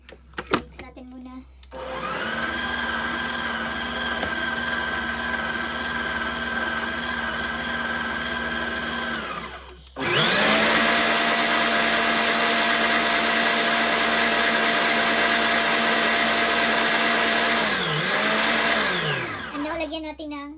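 Electric hand mixer whirring steadily through cream cheese frosting for a cake, a loud continuous motor whine that stops briefly, then restarts at a higher, stronger pitch and winds down near the end.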